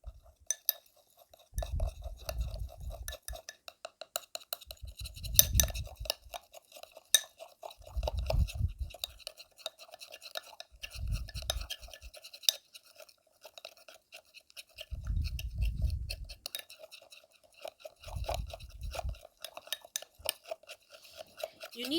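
A homemade skin tag remedy with lemon juice is mixed in a small container, giving repeated scraping and clinking strokes that come in rhythmic bursts every few seconds, fairly close and quiet.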